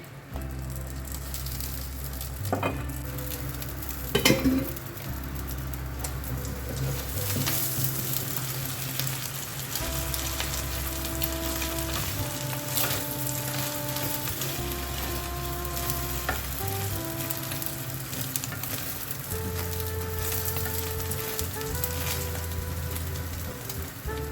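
Eggs fry in a pan with a steady, fairly quiet sizzle over the whole stretch, while tonal background music plays throughout and a couple of brief clinks stand out early on.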